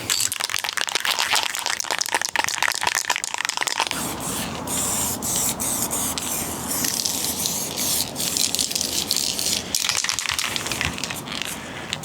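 Clear lacquer hisses from an aerosol spray can in steady bursts, loud and close, with a short pause near the middle and no talk.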